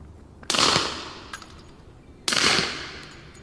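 Two suppressed gunshots, recorded poorly, each a sharp loud crack followed by a short decaying tail, spaced nearly two seconds apart with a faint click between them.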